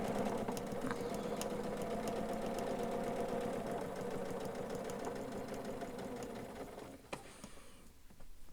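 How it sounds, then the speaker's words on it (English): Sewing machine running a decorative top stitch on a fabric origami butterfly, a close, steady mechanical whirr of rapid needle strokes that slows and stops near the end. "So here I am doing the top stitch."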